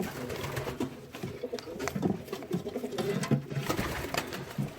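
Young pigeons coo softly in a garden allotment loft, with several overlapping low throaty calls and rustling at close range and a moderate level, no speech.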